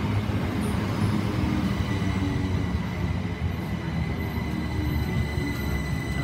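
A Class 377 electric multiple unit crawling slowly through Worthing station, a loud continuous rumble of wheels on rails with steady high-pitched squeals and screeches, with no voices.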